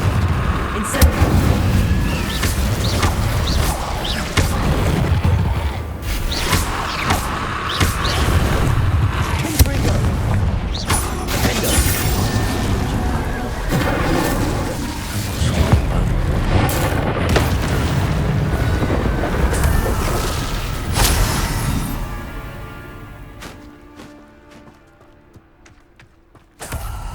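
Fire spell cast in the video game Hogwarts Legacy, a long roaring burst of crackling flame and heavy booms layered with game music and creaking effects, fading out near the end.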